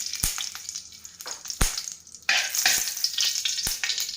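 Ghee sizzles and crackles loudly in a hot wok while carrot halwa is started, with a bright steady frying hiss punctuated by a few sharp utensil knocks and scrapes, no voices.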